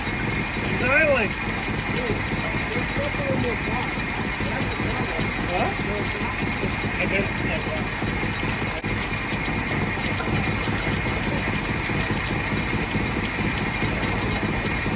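The engine of a 1960 Cadillac hearse idles steadily with a low, rough rumble throughout, while a few brief words are spoken near the start.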